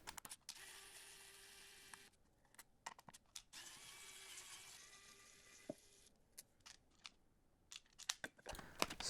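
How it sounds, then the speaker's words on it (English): Screws being removed from a Luminkey Magger 68 HE keyboard: quiet ratcheting and clicking of a screwdriver in short bursts and scattered sharp ticks, up close, with no voices. "let's get all the screws out and open up this board."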